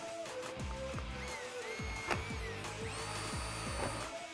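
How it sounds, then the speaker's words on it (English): A power drill with a 1/4-inch bit whirring in short, repeated bursts with rising and falling pitch as it bites through a Mustang rear spoiler panel, close and fairly quiet. "I'm gonna drill my first hole"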